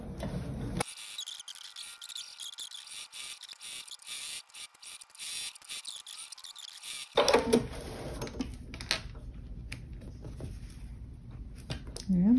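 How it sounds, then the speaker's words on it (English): A sewing machine runs a straight seam along a quilted potholder, a steady whirring stitch lasting several seconds, then stopping. Light handling noises and low shuffling follow. "I'm just going to start sewing"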